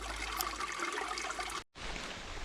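A small stream trickles and burbles steadily as a hiker refills water on the GR53 trail through the Vosges, a continuous close wash of running water that cuts out briefly and then resumes.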